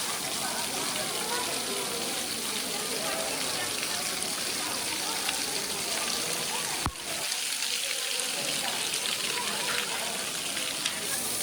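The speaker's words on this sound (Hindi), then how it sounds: "बारिश के कारण कुछ इस तरह के झरने यहाँ पर बहते हुए दिखाई दे रहे हैं" Rain-fed waterfalls stream down near the rock-cut Karla Caves at Lonavala, making a steady, broad rushing wash that fills the clip evenly, with one brief click near the middle and no voices heard.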